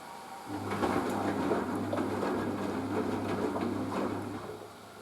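A Merloni Electra WD1100 washer dryer turns its drum gently on a 50°C acrylics and delicates wash, giving a steady low hum with soft sloshing and swishing water throughout, fairly close and continuous.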